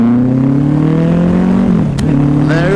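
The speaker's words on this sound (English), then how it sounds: "it's got the Voodoo exhaust, which is why it sounds like it wants to punch somebody square in the face" A Kawasaki Ninja ZX-14 sport motorcycle, a 190-horsepower, roughly 15-year-old bike fitted with a Voodoo aftermarket exhaust, revs up loudly and close by, its engine note climbing steadily before a brief drop at a gear change and a renewed rise.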